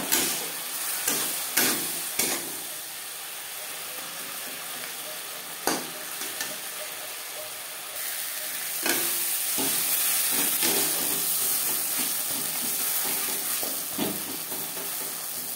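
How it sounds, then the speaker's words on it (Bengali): Spices, salt, turmeric, onion and tomato sizzle steadily in a pan for a Bengali silver carp and potato curry, with sharp scraping stirs of a spoon breaking through the continuous frying hiss close up. "মশলা ও লবণ পেঁয়াজ টমেটোর সাথে বেশ ভালো করে মিক্স করে দেব।"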